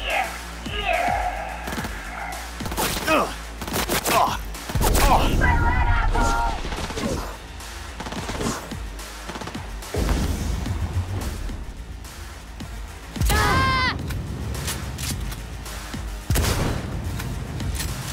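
Gunfire in the video game Cyberpunk 2077, loud bursts and single shots in irregular clusters over about eighteen seconds, mixed with game effects and occasional voices.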